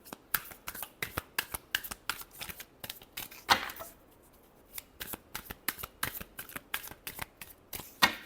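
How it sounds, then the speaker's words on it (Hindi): Playing cards are shuffled repeatedly in a series of crisp riffling bursts, close and fairly quiet, with short pauses between them. "Last shuffle."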